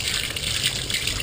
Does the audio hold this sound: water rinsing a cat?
yes